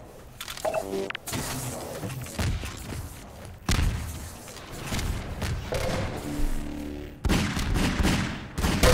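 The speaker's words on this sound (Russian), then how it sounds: "Хороший выстрел от фреда Хедшот ставит по Фишеру" Heavy bursts of gunfire in Half-Life 2: Deathmatch, loud booming shots and rattling volleys in several distinct bursts, with brief quieter gaps between them.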